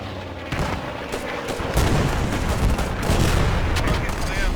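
A bomb explodes in the Post Scriptum war game, a heavy rumbling blast that rolls on with continuous booming and gunfire, loud and dense throughout the clip.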